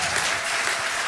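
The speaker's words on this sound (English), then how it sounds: "you can give her applause for that." A congregation at a Center for Spiritual Living service applauds to welcome a visiting reverend, a loud, thick, continuous clapping that fills the whole moment without speech.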